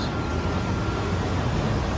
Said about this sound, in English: So the city bus is going.